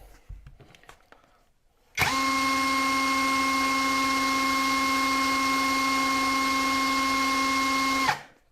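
Heimerdinger LB 176 brushless drill spins up sharply after a quiet start and runs at second speed with a loud, steady high whine for about six seconds before stopping.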